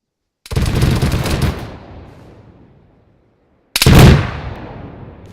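A video game weapon fires a rapid burst of about 100 rounds in roughly three seconds: a loud, dense roar of gunfire that decays into echo, followed by a second sharp burst.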